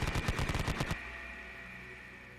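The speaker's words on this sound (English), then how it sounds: "They're going to be firing their LMGs and rifles." A rapid burst of LMG and rifle gunfire sound effect, about ten close sharp shots in quick succession, then cut off to a faint hiss.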